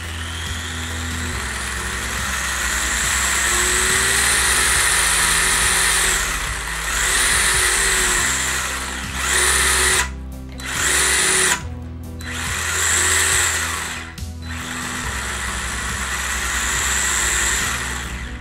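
A brushless-converted BONZAI 1/12-scale RC car motor with a gyro, powered up as the throttle is applied, gives a loud, steady electric whine that rises and falls, with several sharp dips and surges across the run.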